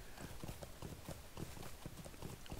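Horse hooves clip-clop steadily in the video game Lord of the Rings Online, a brisk riding rhythm of repeated thuds over constant background ambience, close and moderately loud.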